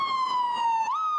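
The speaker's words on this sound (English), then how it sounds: "We're running sirens." An emergency vehicle siren holds a bright steady wail, then bends upward into a new pitch, loud and close with no talking.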